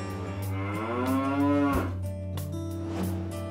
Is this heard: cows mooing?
yes